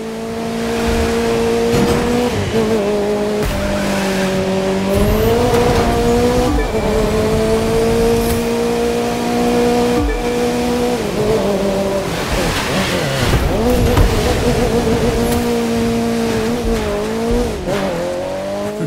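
A race car in The Crew 2 racing game roars at high revs for a long, loud stretch. Steady engine tones rise and fall through gear shifts, and tire squeal and skids come in over them, with no one speaking.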